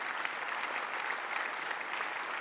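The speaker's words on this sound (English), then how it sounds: "we all deserve a big round of applause for all the participants" An audience applauding hackathon participants at a UNESCO India Africa Hackathon ceremony, a steady, even wash of clapping that carries on without a break at moderate volume.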